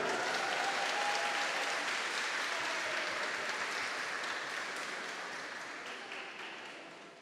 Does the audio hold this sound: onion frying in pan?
no